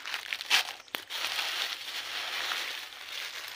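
Whole garam masala spice packet handled close up, giving a sharp plastic crinkle at the start followed by steady soft rustling and crackling throughout.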